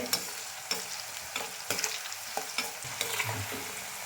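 Bitter gourd slices frying in oil for chips, a continuous crackling sizzle broken by repeated sharp knocks and scrapes of a spoon stirring the pan.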